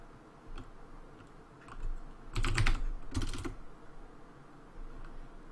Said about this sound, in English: And so what we can do is type tab.